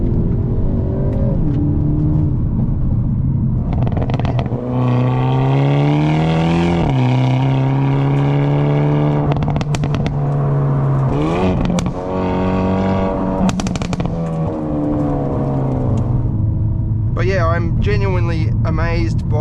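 A 2024 Hyundai i30 Sedan N (Elantra N) accelerates at full throttle from inside the car, its engine note climbing steadily and dropping back with each upshift as it pulls hard through the gears.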